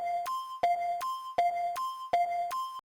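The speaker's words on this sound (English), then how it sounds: "So now my metronome sounds like this." Custom percussion-beat sample set as the metronome in the Reaper DAW, playing four even cycles of a sharp accented click followed by a ringing higher tone, crisp and up close with no talking.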